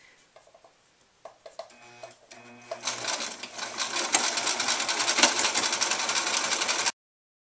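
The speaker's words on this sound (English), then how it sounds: "foot lined up with the edge of the fabric as I sew" A sewing machine stitches along the edge of fabric, a few slow needle thumps first, then a steady, fast mechanical whir and rattle close by that cuts off abruptly.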